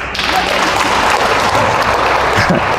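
Steady, fairly loud clapping from a church congregation during worship, a continuous dense patter of many hands with no break.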